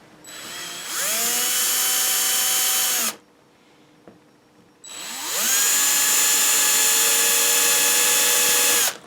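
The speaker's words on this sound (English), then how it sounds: "I'll drill this hole deep enough to meet that channel" A power drill bores a hole into a model starship, two sustained whining bursts with motor pitch rising as each run spins up, separated by a short quiet pause, close and loud.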